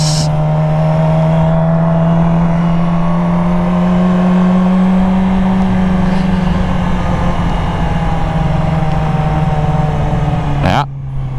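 Yamaha R6 sport motorcycle with no front brakes cruising on a highway, its engine a steady loud drone with constant wind roar throughout, ending in a brief sharp bump.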